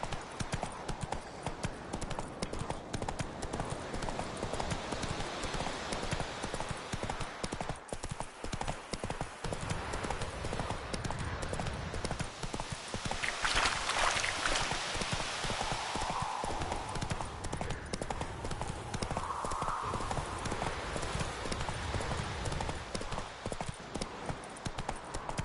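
Roach, Geralt's horse in The Witcher 3, gallops in a steady rhythmic clip-clop of hooves that runs continuously, with a brief snort or whinny midway.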